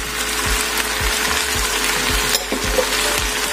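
Vegetables and mushrooms sizzling in a hot frying pan, steady loud frying hiss with a string of rhythmic low scrapes as they are stirred, close and without talk.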